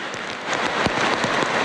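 Heavy rain pouring during a storm in Málaga, a dense, steady hiss of drops with scattered louder splatters, moderately loud and continuous, no voices.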